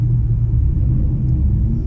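A boosted street-style race car engine idles with a deep, steady low rumble, close and unbroken, with no voices.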